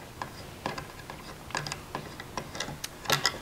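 Unscrewing the treadle fastener on a Schacht Sidekick folding spinning wheel, a series of small ratcheting clicks and taps in an uneven rhythm, close and fairly quiet, with no talking.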